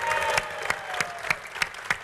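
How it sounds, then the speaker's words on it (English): Applause at an alumni banquet: a modest room of clapping with several sharp, individual claps standing out in a loose rhythm, ending quickly. "let's give a round of applause for Sue"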